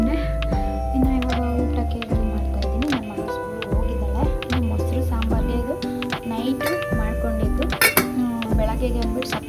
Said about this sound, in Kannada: ಸರಿ ಪಾತ್ರೆ ಎಲ್ಲ ವಾಶ್ ಮಾಡ್ಕೊಂಡು